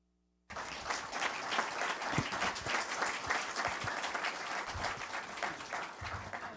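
After a moment of silence, a large audience at a Brookings Institution event bursts into sustained, dense applause that continues steadily at a moderate distance.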